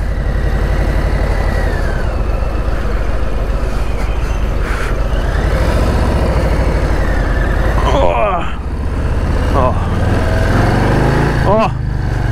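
A 2021 Harley-Davidson Street Bob 114 engine with stock exhaust rumbles loud and close with a deep, steady throb, then revs up briefly a couple of times near the end.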